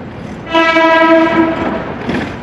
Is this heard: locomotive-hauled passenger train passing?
yes